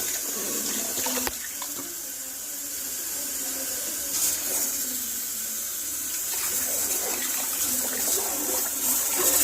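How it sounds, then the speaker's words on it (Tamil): Water is poured steadily into a pot of Dindigul thalappakatti biryani. It makes a continuous splashing rush that runs for several seconds, swelling a little now and then. "இப்போ வந்து நம்ம தண்ணி சேர்த்துக்கலாம்."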